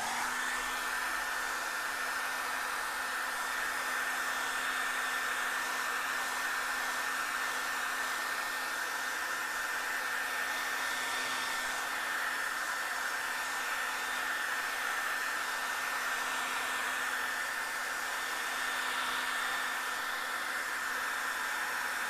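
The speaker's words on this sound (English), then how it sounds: "I think I'm going to use the blow dryer" A blow dryer runs continuously to dry acrylic paint on a canvas, a loud steady whooshing roar with a constant motor hum, close by and unbroken for over twenty seconds.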